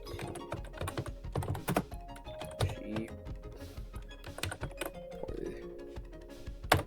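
Linux install command typed on an old laptop keyboard, a close, irregular run of clicking keystrokes and heavier thunking key presses in quick bursts, with no talking.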